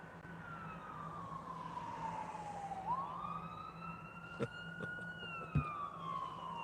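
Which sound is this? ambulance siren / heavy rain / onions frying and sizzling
ambulance siren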